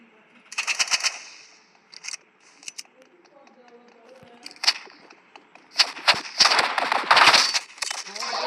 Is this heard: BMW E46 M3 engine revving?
no